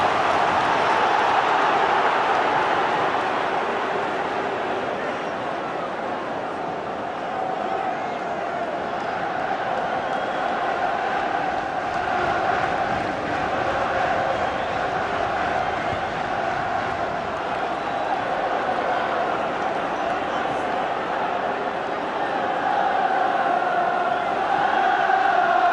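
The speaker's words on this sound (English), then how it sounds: "Biggest league crowd here in around 2 years, making themselves heard." Large league crowd at a 2007 Championship football match between Sunderland and Burnley, a continuous loud roar of chanting and cheering throughout, swelling slightly at times.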